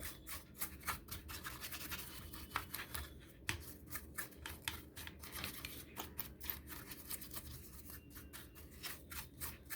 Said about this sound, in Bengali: তো এটাকে আমি একটুখানি ব্রাশ দিয়ে এটাকে আমি একটু পরিষ্কার করে নেব